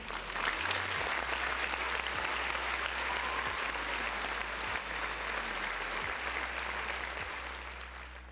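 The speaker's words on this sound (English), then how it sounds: "Round of applause for everybody in the chat." Steady, dense applause from many hands claps continuously, fading slightly toward the end over a low hum.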